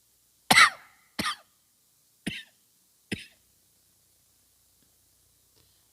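Four separate coughs during a spiritual discourse, close and loud at first and then softer, spaced about a second apart, followed by near silence.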